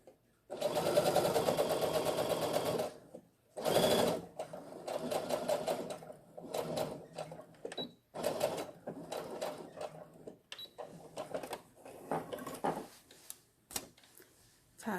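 A sewing machine stitches fabric for a frill bag, sewing straight over pins set crosswise to the seam. It runs in a long loud burst, then shorter rattling runs with brief pauses, and faint talk is heard in places.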